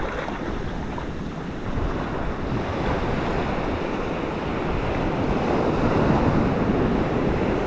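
Ocean surf at Myrtle Beach, South Carolina: a continuous, loud wash of breaking waves mixed with strong wind buffeting the microphone, steady and close throughout with no voices.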